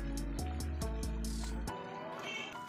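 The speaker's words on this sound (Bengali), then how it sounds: "এবার মশলাটাকে ভাজার জন্য আমি তেল দিয়ে দিচ্ছি।" Cooking oil poured into a salted spice mixture in a pan for a shell-less snail meat curry, a short liquid pour and soft drip over a steady low kitchen hum, close and moderately quiet.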